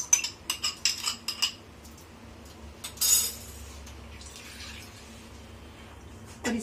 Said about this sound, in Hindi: इसके लिए हम थोड़ा सा पानी डालेंगे, क्योंकि चावल पीसने में थोड़ा मुश्किल होगा।